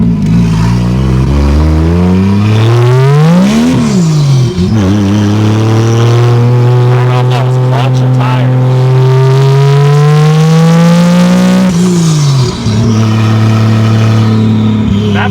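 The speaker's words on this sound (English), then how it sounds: "that turbo's still really loud" A 1987 Toyota Supra with a turbocharged 2JZ-GE engine swap revs loudly and up close, pitch climbing and dropping through several long pulls with whining turbo tones, without any talk.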